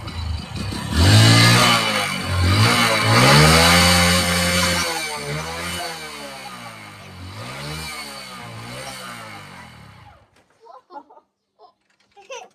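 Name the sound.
motorcycle engine running on paint thinner, put in gear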